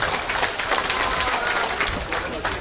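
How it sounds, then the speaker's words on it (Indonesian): Steady applause from a crowd at the Lampung governor's opening of a Karang Taruna event in Indonesia, dense and continuous throughout, with some cheering or voices mixed into the clapping. "Tepuk tangan untuk beliau"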